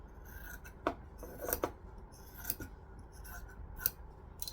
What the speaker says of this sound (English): Grab some scissors. Trim off the excess.